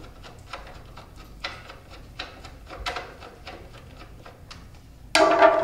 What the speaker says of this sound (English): Next, remove this one screw that holds the side body panel onto the unit.